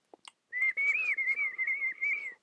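A person whistles to imitate bird tweets, giving a sustained wavering whistle in quick warbling pulses after a couple of faint clicks, close and clear with no other sound.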